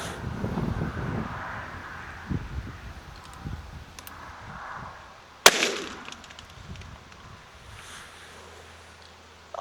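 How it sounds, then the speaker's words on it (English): Pellet gun firing a heavy game load into a pumpkin, one sharp loud crack midway, surrounded by quieter outdoor rustling and wind. "Okay, just one shot, heavy game load."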